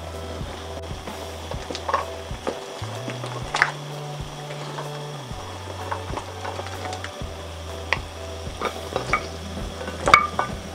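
Chicken broth simmering in a pot while chunks of papaya are dropped and stirred in for native chicken tinola, with soft bubbling, clinks and scrapes of utensils against the pot and a low background hum.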